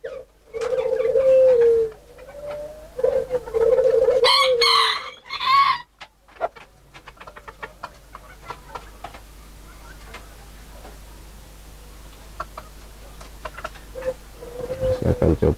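Chickens at a breeding yard cluck and call loudly up close, with a rooster's crowing and cooing doves, then quieter chatter from many chickens and other birds continues in the background.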